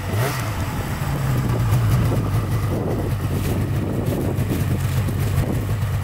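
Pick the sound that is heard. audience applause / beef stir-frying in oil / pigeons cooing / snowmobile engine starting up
snowmobile engine starting up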